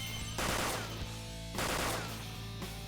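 Gunfire in a Persona 5 Royal battle: two heavy bursts of shots with loud crashing impacts, separated by a brief lull, over a continuous game soundtrack.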